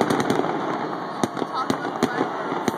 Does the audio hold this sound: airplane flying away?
no